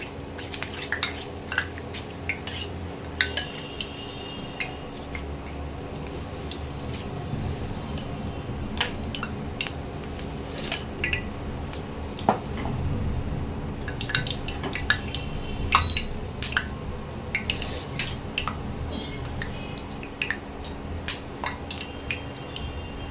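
A spoon clinks and scrapes against a bowl while fish roe fritter batter is stirred, a steady run of light metallic taps and wet mixing sounds that goes on for about twenty seconds, with no one talking.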